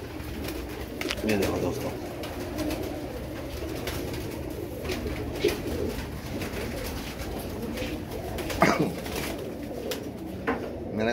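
Pet pigeons coo softly and steadily in a low murmur, with someone speaking over them.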